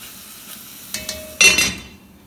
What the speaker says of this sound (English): so we have organic carrots, and it's probably about time that we add those now. Give it another stir.